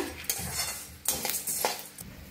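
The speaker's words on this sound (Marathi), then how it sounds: "छान असं भाजले धन, काढून घेऊया आपण।" Roasted coriander seeds are scooped out of a pan with a metal utensil, giving a few scraping, clinking strokes at a moderate, close level with short pauses between them.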